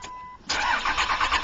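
A 2006 Dodge pickup with a Cummins diesel engine and a Mopar exhaust brake cranks over after a brief quiet moment and catches, settling into a loud, steady, close-up rumble.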